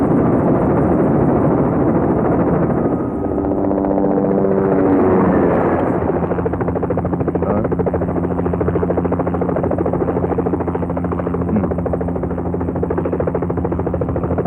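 A helicopter's steady rotor drone and engine whine fill the whole stretch, loud and close, with a rising tonal sweep near the start.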